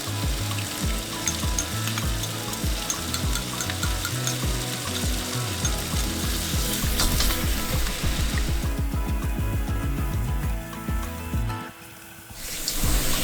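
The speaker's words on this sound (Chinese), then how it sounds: "倒入炒鸡酱汁翻炒均匀，" Chicken stir-fried with stir-fry sauce and dry spices in a wok, a steady loud sizzle with repeated rhythmic scraping strokes of the spatula, dipping briefly near the end before resuming.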